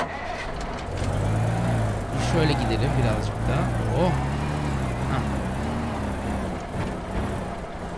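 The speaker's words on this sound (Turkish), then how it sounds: "Oo burada bir damperli kamyonumuz var." A dump truck driving in the video game Teardown, its engine a steady low drone with rumbling shifts throughout, heard under someone talking.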